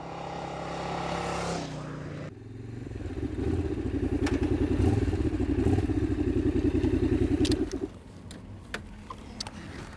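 A 2001 Sachs Roadster 800 motorcycle rides past, its engine building to a loud, steady rumble that holds for several seconds, then drops away as the bike moves off, leaving quieter road noise with a few brief clicks.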